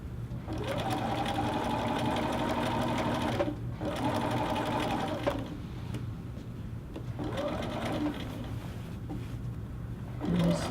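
A sewing machine stitches the center back seam of a little girl's dress in several steady whirring runs, pausing briefly between bursts, close by and alone.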